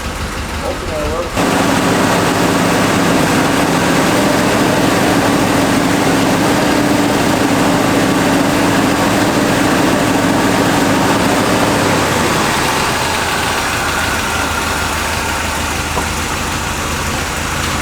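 A 1965 Corvette engine, long stored with very little mileage, runs and idles loudly and steadily nearby, its low rumble shifting in tone partway through.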